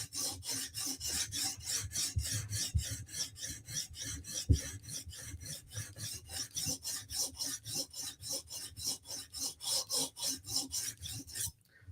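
Knife heel being sharpened, likely on an abrasive stone: a long run of rapid, even rasping strokes in a steady back-and-forth rhythm, close and clear, with a few sharper clicks and no speech.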